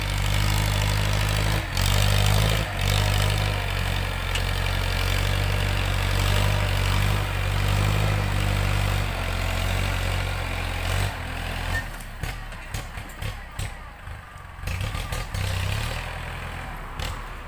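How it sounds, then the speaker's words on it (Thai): A heavy Kubota L5018 tractor diesel engine idles steadily with a deep, throbbing rumble that continues throughout, turning choppier and uneven near the end. "พาท่านผู้ชมมาดูรถไถแท็กเตอร์ครับ เป็นคูบต้าครับ L5018"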